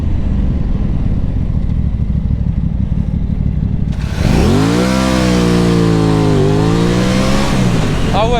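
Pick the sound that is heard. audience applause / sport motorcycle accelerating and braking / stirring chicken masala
sport motorcycle accelerating and braking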